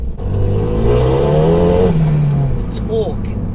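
Golf Clubsport accelerating hard, exhaust note rising in pitch through the rev range and then easing off, loud and close from inside the car, with a voice speaking over it.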